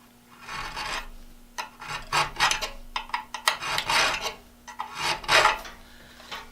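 A hand file rasps against the steel of an Irwin & Jennings style auger bit held in a grip, sharpening it in a run of short, uneven strokes that start and stop, close and fairly loud, with no talking.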